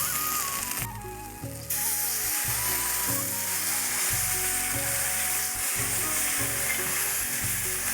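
Loud steady sizzling as water is added to frying green banana in a pan, briefly dipping then continuing strong with a rhythmic bubbling undertone.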